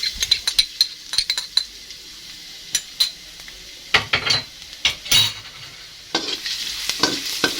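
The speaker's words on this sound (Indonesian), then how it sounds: "Setelah minyaknya panas, langsung aja kita taruhin bawang putihnya teman-teman." Garlic drops into hot oil in a pan with a soft, continuous sizzle, broken by repeated sharp clinks and scrapes of a metal utensil stirring against the pan.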